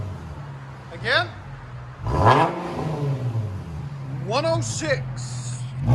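2013 Infiniti G37 3.7L V6 with dual exhaust and no mufflers, blipped over an idle: a short rev, then a bigger rising and falling rev, and two more quick stabs near the end, all loud and close.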